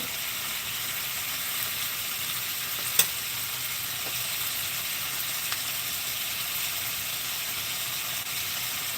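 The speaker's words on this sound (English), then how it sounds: "we want to get a nice sear on our lamb chop, guys. And I prefer to cook these in a cast iron skillet." Honey ginger lamb chops sear in a cast iron skillet with a loud, steady, even sizzle and a couple of faint clicks, all close up.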